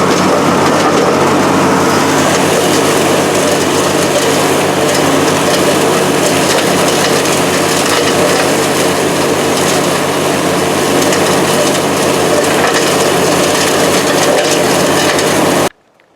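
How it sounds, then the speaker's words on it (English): A rebuilt Craftsman 19.5 HP riding lawnmower runs continuously while cutting overgrown trails, its engine loud and close with crunching, splintering brush under the deck, then cutting off abruptly at the end. "I'm using this mower to help freshen out my trails."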